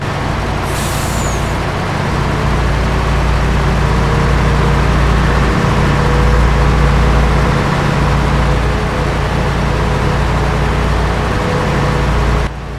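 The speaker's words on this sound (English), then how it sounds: "I'm a bit quiet so you guys can actually hear the engine running." A truck engine in the Farming Simulator video game runs loud and steady for the whole stretch, a deep low rumble with no talking over it, and a brief hiss near the start.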